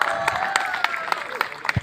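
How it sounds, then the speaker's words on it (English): Students and guests clap at a school sports meet opening ceremony, a short burst of scattered, fairly close handclaps with crowd noise around it. "Let's give a big clap."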